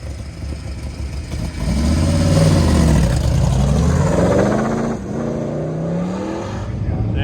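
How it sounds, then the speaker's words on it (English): 1972 C3 Corvette with side pipes, big-block hood and cowl induction racing an autocross course: a loud, close V8 roar revs up and down through gear changes while a commentator talks over it. "Now we got this C3 Corvette. I think it's a 72. Side pipes."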